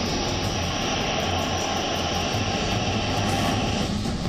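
A passenger airplane speeds down the runway just before takeoff, its engines giving a steady, loud, broadband roar that holds unbroken throughout, with no voices.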